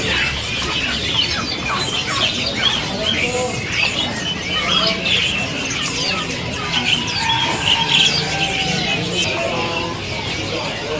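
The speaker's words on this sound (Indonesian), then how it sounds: "Murai Borneo Gacor." Bornean magpie-robin singing amid a busy bird market, with bright chirps and whistled phrases mixed into a dense background of other caged birds chattering and faint voices nearby.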